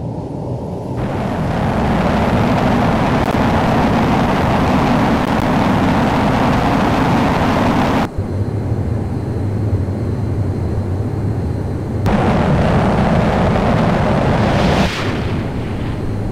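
Jet engines roaring at full military power before a carrier catapult launch in Flight Simulator X, a loud, steady, broadband roar that holds throughout with abrupt shifts in tone, no afterburner, and no talking.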